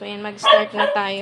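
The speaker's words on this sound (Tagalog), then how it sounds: "Pasensya na sa ingay ng aso." A dog barks and yips close by in a home kitchen during preparation of bopis, a short burst of barks layered over a person talking.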